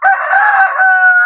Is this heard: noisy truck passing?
no